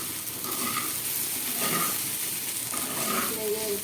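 Raw banana curry (aratikaaya iguru) frying in a pan with plenty of chili powder and turmeric, giving a steady, close hiss of sizzling with light scraping and stirring noises over it.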